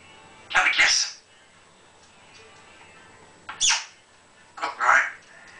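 A pet talking bird gives three sharp, loud squawks, one near the start, one midway and a double burst near the end, separated by quiet gaps.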